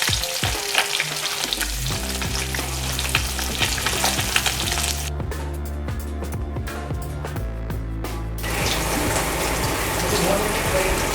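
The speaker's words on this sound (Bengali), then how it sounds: "আর একটা মাছ ভাজা চলছে, লেজা পিস আছে, এটা চলছে।" Pieces of rohu fish, including a tail piece, fry in hot oil in a pan with a loud continuous sizzle and crackle. The frying briefly drops into choppier bursts before the steady hiss returns.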